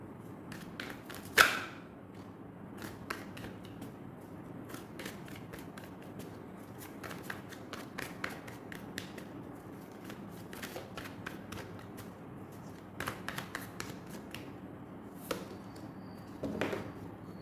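Tarot cards are shuffled and drawn by hand in a quiet room, giving a run of soft riffles, flicks and slaps with brief pauses and a sharper snap near the start, all close and fairly quiet.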